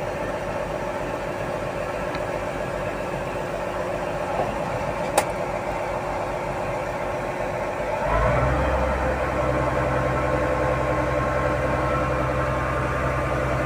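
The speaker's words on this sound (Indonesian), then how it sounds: "Oke, sekarang engine telah dinyalakan. Kita warming up dulu ya." A Komatsu PC1250 excavator's diesel engine idles while warming up, a steady low hum that deepens and strengthens partway through into a heavier rumble, close and alone.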